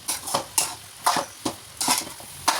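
Carrot halwa with sugar is stirred in a pan, giving about eight crisp scraping strokes at an uneven, steady rhythm, close and fairly quiet, with no voices.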